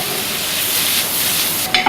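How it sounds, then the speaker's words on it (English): Bacon fries in hot oil in a pan to render the fat and crisp up, giving a loud, steady close sizzle with a brief stirring clatter near the end. "We'll get our bacon in there. So we'll render off all the fat and crisp it all up."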